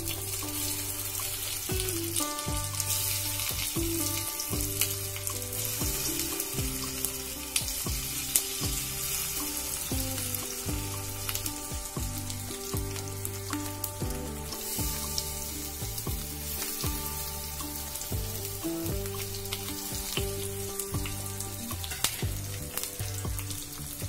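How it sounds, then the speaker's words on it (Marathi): Colocasia leaf rolls (alu vadi) shallow frying in oil in a frying pan, a continuous crackling sizzle with a low steady hum beneath and occasional sharper pops and spatula taps, close and unbroken by speech. "आता आपण या अळूवड्या शॅलो फ्राय करणार आहोत, डीप फ्राय नाही करणार"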